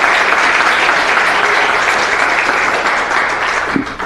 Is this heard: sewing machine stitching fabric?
no